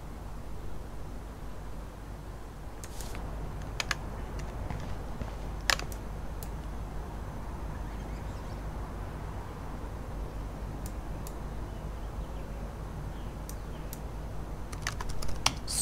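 Typing on a laptop keyboard in the video game Life is Strange, sparse quiet key clicks in small bursts over a low steady hum, faint and with no talk.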